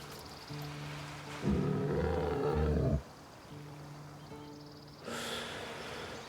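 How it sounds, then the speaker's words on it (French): A bear roars in the video game Baldur's Gate 3, a loud, deep, growling roar lasting over a second, followed by lower snorting breaths and a second, rougher growl near the end. "Ah, là il y a un ours."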